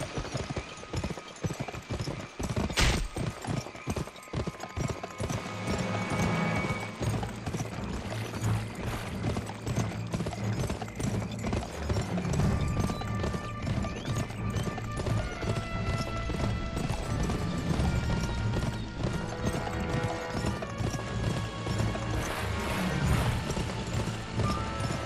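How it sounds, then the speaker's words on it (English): In the video game Gun, a horse gallops in fast, continuous clip-clop hoofbeats, with a brief whinny and in-game music and effects layered over it, steady and loud across the whole stretch. "Get on that horse and follow me."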